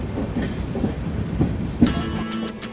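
The Konark Express runs on a monsoon journey from Mumbai toward Solapur, a steady close rumble with rhythmic clickety-clack of wheels over rail joints and a few sharper knocks, with no voices.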